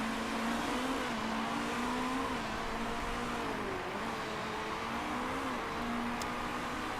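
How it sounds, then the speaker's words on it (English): Race cars run on the Rio de Janeiro circuit in Motorsport Manager, a steady engine drone whose pitch rises and dips gently with throttle changes, continuous and moderately loud without talk. "near the end of lap 2, it's Nagy just gradually pulling away from us, Pankiewicz, Hughes, and then the rest of the field"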